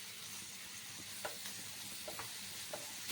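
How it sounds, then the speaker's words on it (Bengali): Chopped onion and green chilli sizzle softly in hot oil with cinnamon, cloves and cardamom, a steady low frying hiss with a few scraping stirs, no talking. "আর আমি দিয়ে দিচ্ছি দেখো একটু পেঁয়াজ আর কাঁচা লঙ্কা কুচি।"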